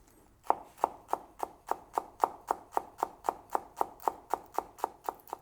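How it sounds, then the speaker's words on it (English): Knife chopping celeriac on a cutting board, about nineteen crisp, evenly paced strikes in a steady rhythm, close and fairly quiet with nothing else around. "And then we chop it up as well."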